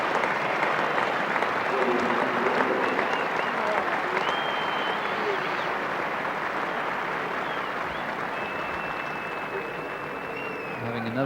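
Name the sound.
cricket crowd applauding Viv Richards at Lord's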